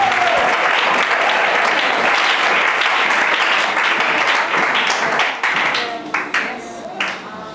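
An audience at a Christian worship event breaks into sustained, dense applause that fills the room, then thins into scattered individual claps toward the end, with voices cheering underneath.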